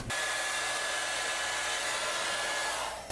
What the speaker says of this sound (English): we're going to take a hair dryer to them again